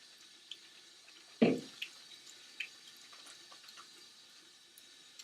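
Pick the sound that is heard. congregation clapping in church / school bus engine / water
water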